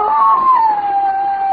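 A single long dog howl from a radio drama, one sustained wavering tone that slowly falls in pitch, loud and close with no talk over it.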